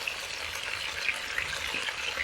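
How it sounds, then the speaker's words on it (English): Continuous crackling sizzle of food frying in hot oil, steady and close, with small pops scattered throughout and no voices. "you can hear that nice sizzle in there"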